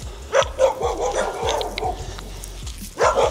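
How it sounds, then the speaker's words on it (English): Dogs bark indoors in a house, with loud, repeated barks in a quick, uneven rhythm and some yips mixed in, close by and with no talking. "These dogs are not happy that I'm here doing this today."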